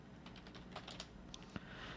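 Typing on a computer keyboard, a quick, fairly quiet patter of key clicks in an uneven rhythm, the last keystroke slightly heavier, with no talk.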